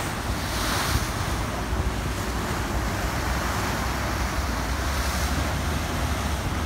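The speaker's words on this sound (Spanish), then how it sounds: "Estamos en el Mar Caribe." Caribbean Sea surf and strong wind along the Santo Domingo seafront promenade, a continuous loud roar of breaking waves with heavy wind buffeting the microphone throughout.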